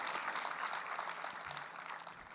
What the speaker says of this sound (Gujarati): તેમને પણ આપણે જોરદાર તાળીઓથી વધાવીએ